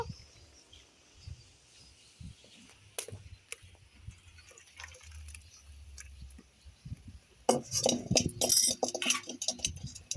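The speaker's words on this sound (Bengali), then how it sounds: "এবার রান্নাটা আমি ঢেলে নেব" Cooked snail curry being poured from a pot into a dish, with soft scraping and clinking at first, then a louder wet, sloshing pour with utensil clinks near the end.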